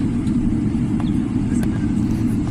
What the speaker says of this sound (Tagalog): paalis na kami, palipad na airplane.